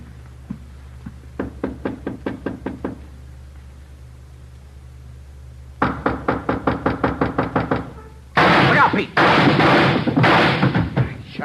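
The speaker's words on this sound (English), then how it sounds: "Shot right through the door." Gunshots fired through a door in a radio police drama, sharp rapid bursts in three volleys, the last a loud, sustained crackling barrage, close and alone with no talk.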